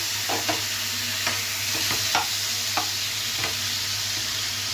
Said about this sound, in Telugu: టమాటాలు కూడా వేగుతుందిగా